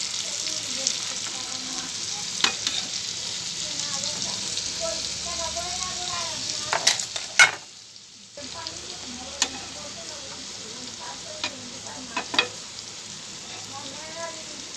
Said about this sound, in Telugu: వీటిని మంచిగా మీడియంలో పెట్టుకొని మంచిగా ఫ్రై చేసుకుందాం